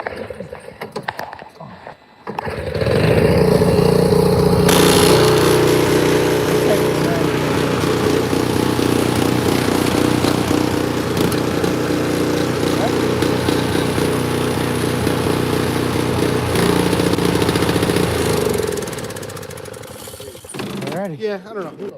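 A small engine cranks and catches after being choked with the fuel turned on, then runs at a steady, fairly loud rumble for about fifteen seconds before cutting out, with people talking over it.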